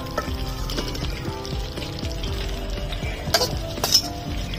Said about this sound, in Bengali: দিয়ে দিচ্ছি ভেজে রাখা সবজিগুলো